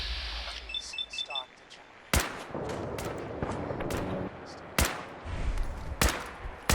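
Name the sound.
gunfire from a companion in the video game Fallout 4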